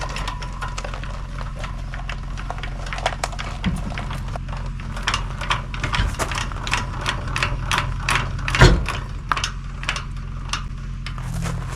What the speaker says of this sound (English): The dock is my favorite part, as it securely holds the jack wheel